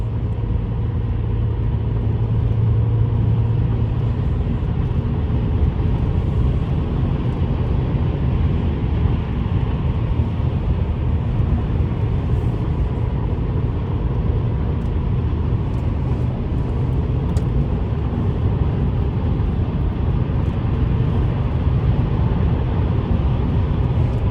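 Car with a 392 engine cruising on a highway, heard from inside: a steady, loud low engine and road rumble that drones on without a break.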